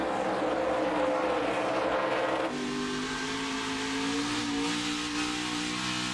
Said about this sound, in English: You heard that throttle?